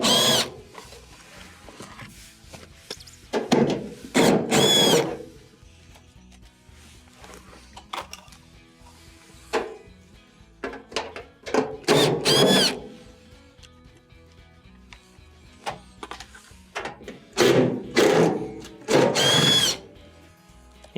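A power driver backs four 1/4-inch screws out from underneath a Maytag dryer cabinet, in repeated short whirring bursts separated by quiet pauses, close and fairly loud.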